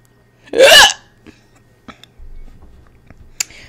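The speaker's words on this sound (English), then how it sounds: "I had one hiccup for you." A single loud hiccup bursts out close up, followed by quiet breathing and faint small noises, with no words.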